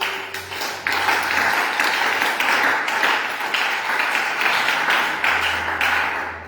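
A church congregation breaking into applause, a dense burst of clapping that swells quickly and holds steady and loud for several seconds, with a low hum underneath.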